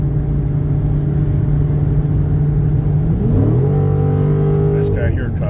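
Dodge Super Bee engine rumbling while driving: a steady, loud low drone that climbs in pitch around the three-second mark as the engine revs higher, then holds.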